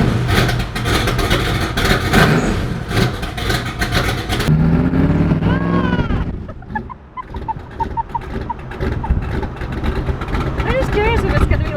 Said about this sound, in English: Enjoy this cold start.